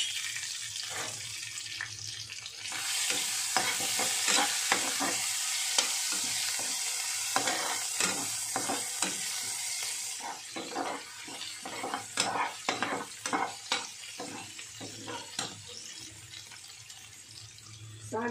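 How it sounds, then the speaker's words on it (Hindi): Crushed ginger, garlic and two broken red chillies frying in hot oil as a tempering for a bhindi-greens saag dish. A steady, fairly loud sizzle fills the first half, then fades into scattered clinks and clatter of stirring utensils. "तेल गर्म हो गया है। अदरक लहसुन कूटा हुआ, दो लाल मिर्च तोड़ ली हूँ,"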